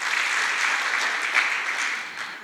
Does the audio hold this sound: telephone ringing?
no